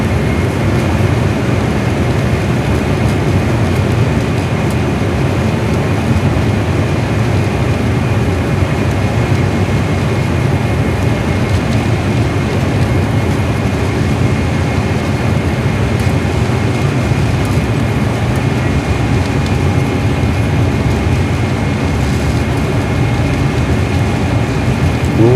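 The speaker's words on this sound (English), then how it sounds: "Rolling down the runway on our Airbus A320, and it's takeoff time." An Airbus A320 rolling down the runway on its takeoff run, heard from inside the cabin as a loud, steady roar of engine and rumble that holds throughout with no talk.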